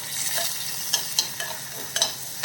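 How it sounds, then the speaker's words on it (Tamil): Mustard seeds splutter and pop in hot oil in a pan while making anchovy fish curry, a steady sizzle broken by sharp crackling pops every fraction of a second, close and with no talking. "கடுகு பொரியட்டும் கடுகு பொரியுது"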